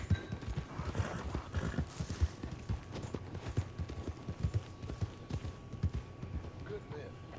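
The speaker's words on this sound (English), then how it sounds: "We're gonna go check up on some horses." Red Dead Redemption 2 gameplay: steady clip-clop of hooves at a walking pace, close by, with occasional horse snorts over soft background ambience.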